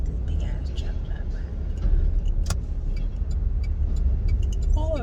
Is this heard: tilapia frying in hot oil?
no